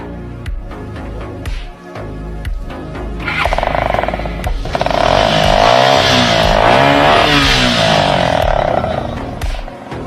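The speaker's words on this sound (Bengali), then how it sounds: "আপনার গাড়িটা একটু স্টার্ট দেন তো।" A motorcycle fitted with a modified silencer starts up and revs, its engine note climbing into a loud, sustained roar that holds steady near the end.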